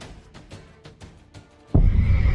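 Horse neighing in the video game The Witcher 3: Blood and Wine, a series of short whinny bursts with hoof-like clatter, followed by a sudden loud crash of game combat noise.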